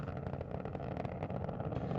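The three liquid-fuel main engines of Space Shuttle Atlantis roar in a dense, steady, crackling rumble during the STS-135 launch, heard from a distance without any voices.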